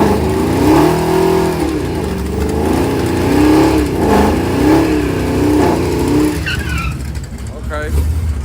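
Four-wheel-drive drag race car with an 8-speed transmission making a full pass at a night drag event, loud engine roar with rising and falling revs through gear changes, fading away near the end amid crowd voices.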